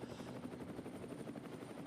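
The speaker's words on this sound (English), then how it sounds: "the helicopter trying to keep up with the fast car" Helicopter following a race car around the Nurburgring Nordschleife during 24-hour race qualifying, a continuous rapid rotor thudding and engine whine, fairly faint and steady throughout, with no voices.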